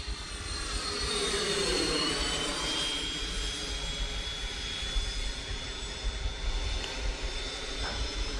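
A Freewing F-14 Tomcat 80mm electric ducted-fan RC jet flies past with a steady, loud whining roar that shifts in pitch as it passes, with no talk.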